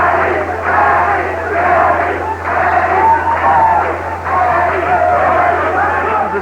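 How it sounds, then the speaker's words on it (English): Boxing arena crowd at a professional fight chanting a fighter's name, a loud continuous rhythmic roar of many voices rising and falling in waves throughout. "this crowd picks up the chant of Kenny"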